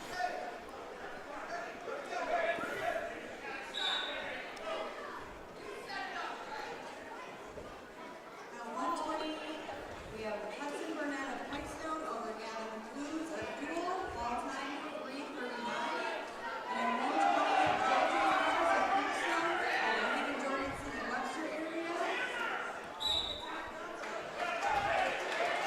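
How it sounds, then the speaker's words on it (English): Coaches and spectators shout at a high school wrestling invitational tournament, a continuous wash of overlapping voices in a gym with scattered sharp thuds and squeaks, growing louder toward the end. "I can just hear the coaches and the crowd yelling"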